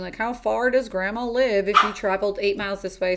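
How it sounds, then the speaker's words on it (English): A pet dog barks a few times in the background while a person talks steadily over it in the foreground. "apologies about my dog"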